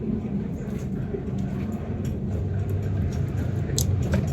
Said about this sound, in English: there's a sound coming from a car